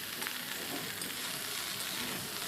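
Tomatoes hitting a pan of frying mixed winter vegetables for a vegetarian curry, giving a soft, steady sizzle at close range that holds evenly throughout, with no talking.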